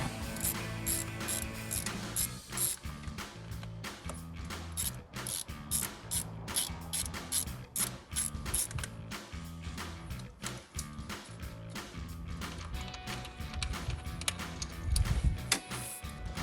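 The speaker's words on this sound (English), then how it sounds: "take your 10mm and your wrench and come to the coil pack. You're just going to want to loosen the 2 bolts on the front" A 10mm ratchet wrench loosening the coil pack bolts on a RAM 1500 engine, rapid close ratcheting clicks running almost continuously with brief pauses and a few heavier mechanical knocks.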